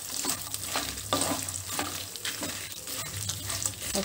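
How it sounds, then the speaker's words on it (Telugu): Roasted peanuts, dal, coconut and cashews being stirred and fried in a pan for a puffed rice masala mixture, with a steady close sizzle under repeated scraping and rattling stirs. "అది కూడా ఇందులో వేసి వేయించుకుందాము ఇది మొత్తం మిక్స్ చేసుకోవాలండి"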